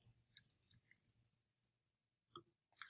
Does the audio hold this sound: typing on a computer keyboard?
yes